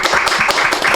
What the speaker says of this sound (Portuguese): Quero pedir um forte aplauso para a pastora Sandra Alves